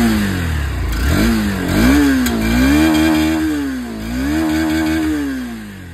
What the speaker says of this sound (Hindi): बाकी इसकी जो एग्जॉस्ट साउंड है दोस्तों वो भी आप लोग सुन लीजिए।